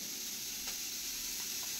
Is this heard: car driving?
no